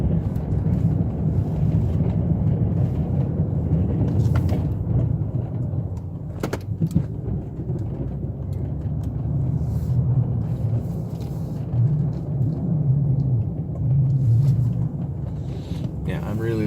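A snow plow vehicle pushing snow on a cold January day, a steady low engine rumble running throughout with brief knocks and scrapes, close to the microphone, with faint talk mixed in.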